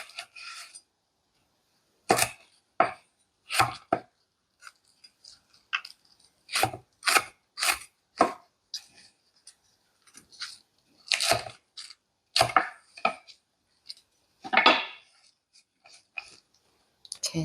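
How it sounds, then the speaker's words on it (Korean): A knife thinly slices cheongyang and red chili peppers on a cutting board, making crisp, irregular taps in quick clusters separated by short pauses, close and clear with no talking. "청양고추, 홍고추는 그냥 얇게 어사슬기로만 썰어줍니다."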